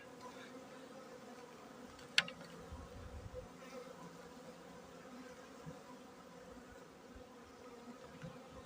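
Honey bees hum steadily in an opened hive of an overwintered colony, a dense close drone with one sharp click near the start.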